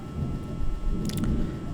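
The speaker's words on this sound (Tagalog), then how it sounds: "Lakas ng kulog" Loud thunder gives a deep, continuous rumble that fills the whole clip, with a brief crackle partway through. There is no talk.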